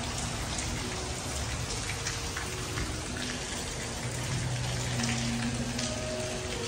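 Rain falls steadily at Sentosa in Singapore, a dense constant hiss of drops hitting surfaces, with faint low hum beneath and no voices.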